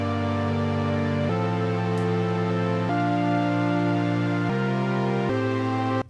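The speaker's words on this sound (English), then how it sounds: "here I've got this basic wavetable patch playing a chord progression" A basic Ableton Wavetable synth patch plays a slow progression of sustained chords, each held roughly a second and a half before changing, loud and steady with no voices, cutting off at the end.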